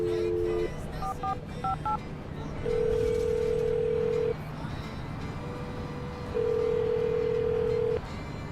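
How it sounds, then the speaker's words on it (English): A telephone call is placed: a few quick keypad beeps, then two long, steady ringback tones with a pause between them, all over a faint low hum. "I'm going to dial the phone number right now."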